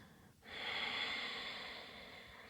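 During a yoga breathing exercise, one long, audible exhalation rises after a short pause and holds as a steady, airy hiss that fades slowly. It sounds close but quiet, with no speech.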